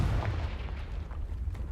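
A Confringo curse explosion in Hogwarts Legacy, a sustained deep rumbling blast with low booming energy that rolls steadily for under two seconds without talk.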